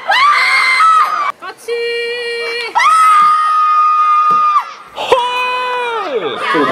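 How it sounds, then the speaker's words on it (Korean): A crowd of young voices screams and cheers at a university festival, in loud, sustained bursts with brief pauses between waves of shouting. "그럼 다시 한 번 소리 지르십시오"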